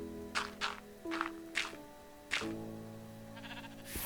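A sheep in a Minecraft modpack bleats in several short, separate calls over a quiet background with a faint steady tone.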